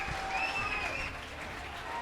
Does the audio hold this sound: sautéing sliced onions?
no